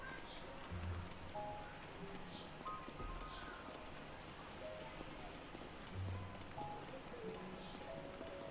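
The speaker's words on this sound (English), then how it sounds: "And it's raining." Steady rainfall in the video game Zelda: Tears of the Kingdom, a soft continuous patter filling the scene at low level, with faint muffled thumps and occasional light tones beneath it and no voices.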